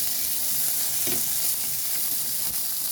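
Tomatoes tipped into a hot pan of sautéed garlic for ginisang sayote give a loud, steady frying sizzle that runs without a break, with a brief stir or clatter partway through.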